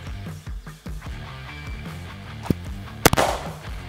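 An FN rifle fires at a target in a couple of sharp, loud reports near the end, one quick double shot, after a stretch of quieter background.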